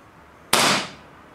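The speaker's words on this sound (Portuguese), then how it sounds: "E os disparos na almofada." A single sharp pop from a Colt 1911 MK IV full-metal CO2 gas blowback airsoft pistol striking a cushion, loud and close, with a brief hissy decay.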